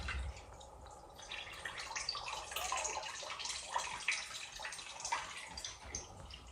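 Whey trickles and drips steadily from homemade cheese curds lifted to drain, a soft, continuous wet patter with small splashes at close range and no talking.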